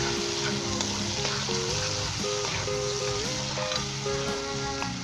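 Masala with turmeric, salt and cumin frying in a pan for a zucchini curry, giving a steady, dense sizzle throughout with soft stirring scrapes and a tonal hum underneath.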